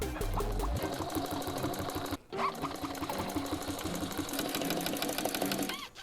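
Sewing machine stitching car seat upholstery as it runs low on thread, a fast, steady mechanical chatter of the needle running continuously up close with one brief stop.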